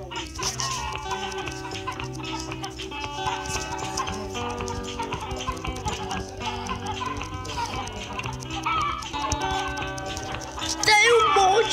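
Cartoonish chicken clucks from the farming game Egg Inc, sounding continuously over busy upbeat game music, with a person talking over it.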